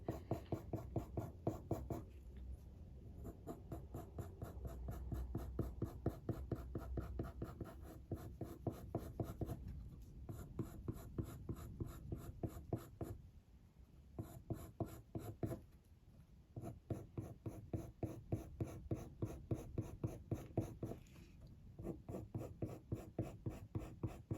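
Coloured pencil shading on textured paper: close, steady scratchy back-and-forth strokes in a fast, continuous rhythm, broken by a few brief pauses.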